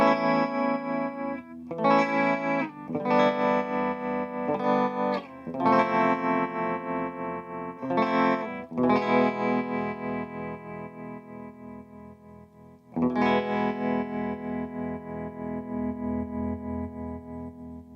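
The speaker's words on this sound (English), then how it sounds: "And it has vibrato." A guitar played through a Frugal Amps modified Blackface Deluxe Reverb amp with the vibrato on and the reverb off. Loud strummed chords ring out one after another, wavering steadily, with a few short gaps between them and no talking.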